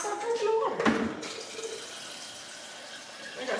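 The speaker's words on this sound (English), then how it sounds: "I need to fill up my water cup" Water pours from a tap into a drinking cup with lemon in it, a short splashing fill near the start that settles into a softer steady stream, close and fairly quiet.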